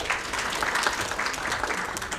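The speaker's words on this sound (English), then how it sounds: "Round of applause." Audience applause at a townhall event on AI labour, a dense steady patter of clapping from a seated crowd filling the short stretch without any talk.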